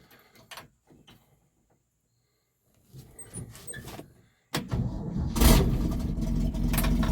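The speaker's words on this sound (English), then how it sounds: "so it fired right up" A 1966 Chevrolet C10 pickup with a straight-six and four-speed floor shift: a few faint clicks, a stretch of cranking, then the engine catches and settles into a loud, steady, rumbling run close by.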